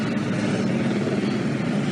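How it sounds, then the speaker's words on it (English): Helicopters drone loudly overhead during a riot in Atlanta, a constant low rotor rumble with a steady, throbbing engine tone. "Helicopters overhead."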